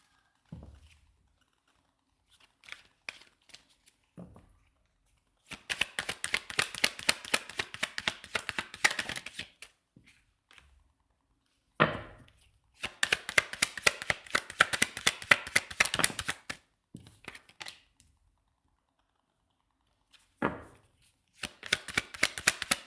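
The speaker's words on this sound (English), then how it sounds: "I shuffle kind of aggressively." A deck of trading cards is shuffled aggressively in several long bursts of rapid riffling and slapping, close and crisp, separated by quieter pauses with scattered taps.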